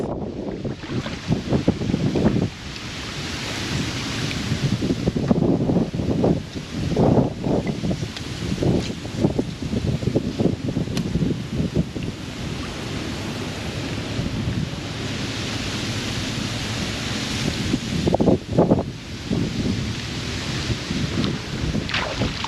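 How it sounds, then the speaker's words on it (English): A strong south wind blows across open water at a causeway, gusting in buffeting bursts against the microphone with a constant roaring rush of surf and wind. "So the wind is blowing pretty swift now."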